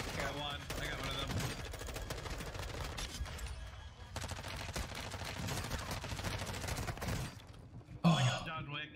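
Sustained automatic gunfire crackles from an M4A1 and other weapons in Warzone 2 on Ashika Island, dense rapid bursts running almost continuously with brief pauses, mixed with a player's voice.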